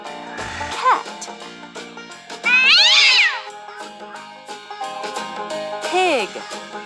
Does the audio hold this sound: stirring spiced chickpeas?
no